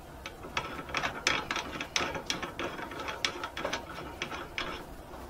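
An expander die being screwed into a Lee Classic turret press gives a run of quick, close ratcheting clicks, uneven in spacing and fairly quiet, continuing steadily with no talk.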